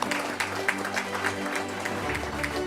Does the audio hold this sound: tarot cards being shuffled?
no